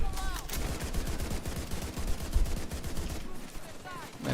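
Rapid bursts of automatic gunfire in the Division 2 video game, dense and continuous across the clip with sharp repeated transients under a busy game mix, and a voice speaking briefly.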